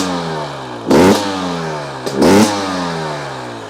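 A two-stroke enduro motorcycle idles steadily nearby, then its throttle is blipped twice in quick succession, each short loud rev rising and falling back to a busy idle.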